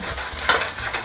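Fish browning in a pan for Peruvian ceviche, a brief close steady sizzle with a small stir or scrape in the middle.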